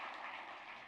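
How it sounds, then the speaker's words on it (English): A live audience at a wine-country food talk claps steadily in a dense, even wash of applause that holds for about a second without any voices over it. "more applause"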